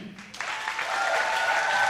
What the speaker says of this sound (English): I want a big applause for them.